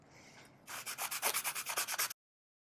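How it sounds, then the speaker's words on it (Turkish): Sandpaper of 120 grit rubbing back and forth over filler in a steady run of about a dozen rasping strokes, close and loud, after a quiet start. "Şimdi zımparalamaya başlıyorum. Evet 120 ile zımparalayacağım."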